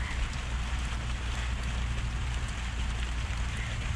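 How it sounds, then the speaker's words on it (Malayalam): Heavy rain pours down in a dense, constant roar over a traditional fishing spot in Kumbalangi, steady and close, with no voices. "ഇവിടെ ഇപ്പോൾ മഴയാണ് നല്ല മഴ"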